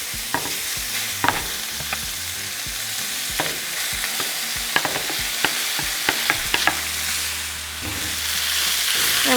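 Meat frying in a hot oiled pan over medium-high heat, a loud continuous sizzle with repeated scraping and stirring knocks close by, no talking.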